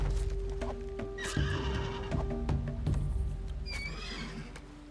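Horses neighing in the video game Dawn of Man, several whinnies overlapping with clip-clopping hooves and dense game ambience, fairly loud and steady throughout with no talking.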